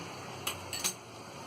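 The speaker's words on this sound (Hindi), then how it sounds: "तो सबसे पहले हम एक कढ़ाई लेंगे और गैस चालू करेंगे" A metal kadai set down on a gas stove in a home kitchen, giving two or three faint metallic clanks close by, alone and without talk.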